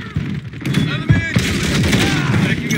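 Video game gunfire in a military shooter: rapid, dense bursts of shots and booms continuing throughout, loud and close, mixed with radio chatter and other voices.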